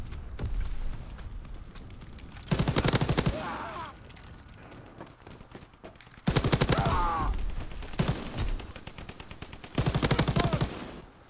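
MG42 machine gun in Call of Duty WW2 firing in three loud rapid bursts, each roughly a second long, separated by quieter gameplay ambience.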